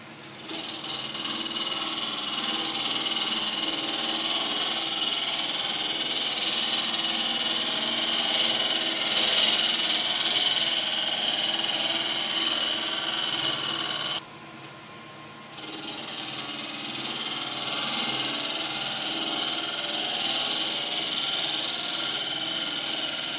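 A wood lathe spins a bowl blank while a bowl gouge rides its bevel back and forth across the wood, giving a steady, close hiss and whir that breaks off briefly near the end and then carries on. No one speaks.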